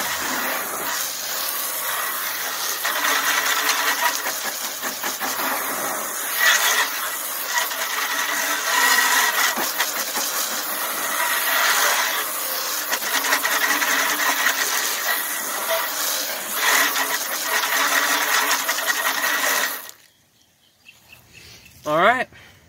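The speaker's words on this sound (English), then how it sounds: "Let's rinse it." A steady hissing water spray rinses cleaner off a car wheel and tire, running continuously for about twenty seconds before cutting off, followed by a brief voice.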